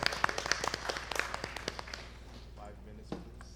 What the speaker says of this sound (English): Give him a round of applause. Round of applause.